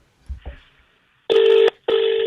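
Two long electronic telephone ring bursts, loud and close, with a short gap between them, following a couple of faint low thumps at the start.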